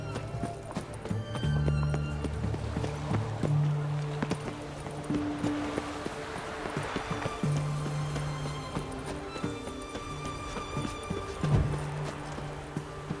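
Horse galloping in the video game Witcher 3, with rhythmic hoofbeats and clip-clop running steadily throughout amid ambient game sounds and a low music bed.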